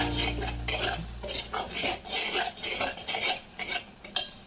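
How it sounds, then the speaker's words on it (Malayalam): Mango pickle masala being stirred with salt: a spoon scrapes and knocks against the container in quick, irregular strokes, close and steady throughout with no talking. "അപ്പം ഞാൻ മസാലയ്ക്ക് ഉപ്പിട്ട് കൊടുത്തു. നന്നായിട്ട് അതിനെ ഇളക്കി കൊടുക്കണം."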